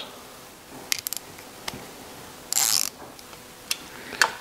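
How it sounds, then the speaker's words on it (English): Nyloc nuts are run down onto the oil breather plate of an air-cooled Porsche engine, giving faint, close metallic ticks and clicks and a brief ratcheting rasp against a quiet background. "I just want to bring the nylocks down just until they contact the breather plate"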